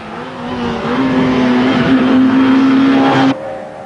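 A Peugeot 205 rally car drives a stage of the 1987 Ulster Rally, its engine revving loudly and close with a steady high note that cuts off abruptly, then a quieter engine tone continues.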